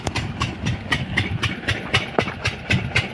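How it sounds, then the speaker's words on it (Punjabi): Engine idling on a farm during paddy sowing, a steady close rumble with evenly spaced rhythmic knocks and clattering pulses, running alone without voices. "ਹੁਣ ਆਪਾਂ ਕਰਦੇ ਆ ਇੰਜਨ ਬੰਦ"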